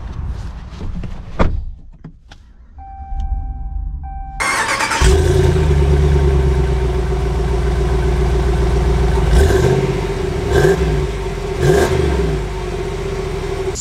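A 2021 Ram 2500 Laramie pickup with the 6.4 Hemi: a door shuts and chimes sound, then the engine cranks and catches into a deep steady idle with a few revs, heard from inside the cab.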